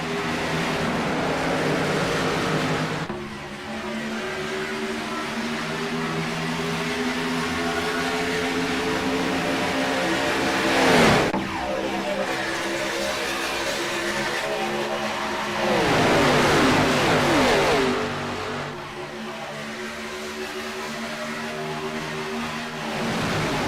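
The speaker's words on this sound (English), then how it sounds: "Field getting up to speed as they head down the super stretch for the first time" A field of race cars accelerating around Daytona in a Mid Atlantic Racing Series event, loud sustained engine roar with waves of cars rising and sweeping past as the pack builds speed.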